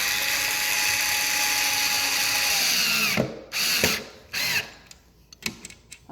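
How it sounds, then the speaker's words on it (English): A power screwdriver whirs steadily up close while driving screws into a Benchmark laminate cutter, then stops and gives several short bursts as the screws are tightened. "I will get my screwdriver and do this"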